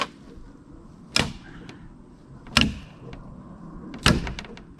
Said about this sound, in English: nope, that sound was the string breaking